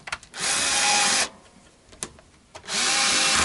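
Cordless power drill on a low torque setting driving new screws into a Yamaha Pacifica electric guitar, two loud whirring bursts with a brief quieter pause and a click between them, close up.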